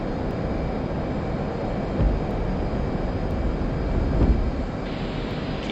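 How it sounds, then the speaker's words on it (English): An F/A-18C jet roars at full afterburner during a takeoff in DCS World, a loud, continuous broadband rumble with a couple of brief surges, heard alone. "You salute at him, and I go a full afterburner."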